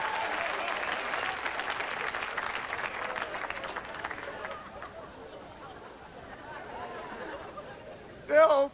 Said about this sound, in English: You keep on clapping